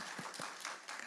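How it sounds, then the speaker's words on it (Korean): Congregation clapping during a Sunday church worship service in Korea, a quiet, brief wash of applause with a few distinct claps near the start. "우리 다시 한번 박수로 축복하겠습니다"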